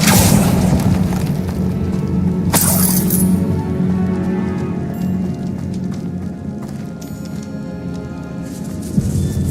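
Confringo and Incendio spells blast in the Hogwarts Legacy video game: a loud, dense wash of fiery rumble is broken by a sharp, shattering burst, then a sustained roar with scattered crackles.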